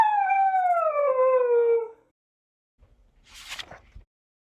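A dog gives a single long, clear, descending howl lasting about two seconds, followed by silence and then a faint rustle.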